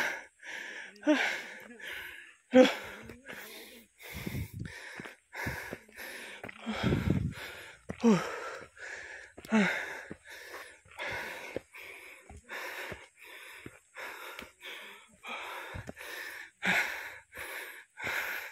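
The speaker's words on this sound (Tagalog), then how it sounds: "Hingal ako." A person breathes hard after exertion outdoors, ragged gasps and snorting breaths repeating steadily for many seconds, close and loud, with no talking.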